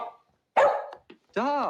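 A dog barks in a couple of sharp, close bursts with a short yip between them, loud against an otherwise quiet room.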